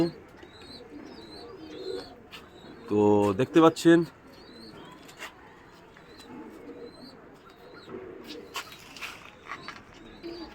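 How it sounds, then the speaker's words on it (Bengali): Pigeons coo softly in the background while someone speaks briefly, with a short burst of flapping wings and a few chirps nearby. "আমি পায়রা উড়িয়ে রেখেছি"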